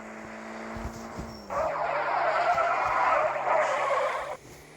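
A car in a driving video game brakes hard and skids, a sustained tire screech lasting a few seconds over a steady engine hum, fairly quiet and with no speech.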